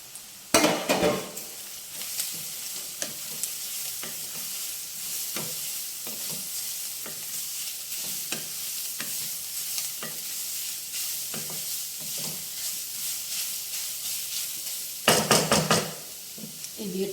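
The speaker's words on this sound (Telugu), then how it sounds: "ఇందులోకి మనం వేగిన ఉల్లిపాయకి బీట్రూట్ వేసుకుందామండి." Grated beetroot fries with sautéed onions in a pan, a continuous sizzle punctuated by regular spoon knocks and scraping stirs, with heavier clattering bursts near the start and end.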